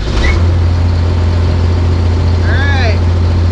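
A Cummins-powered Ford Dentside truck idles with a steady, loud low rumble throughout. A brief tonal chirp sounds near the end.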